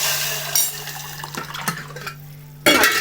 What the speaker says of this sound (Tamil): இப்போ இந்த ரசத்தை தூக்கி ஊற்றி